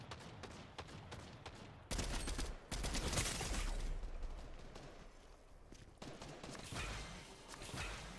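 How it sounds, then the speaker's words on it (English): Fortnite gunfire, a dense stream of shots with two loud bursts at about two and three seconds, quieter scattered firing continuing after, with no talking. "now I'm getting shot by two people."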